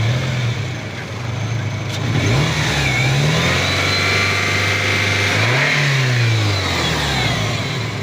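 A Subaru car engine runs and is revved twice, each rev a rising and falling surge over a steady loud idle, recorded close with no talk.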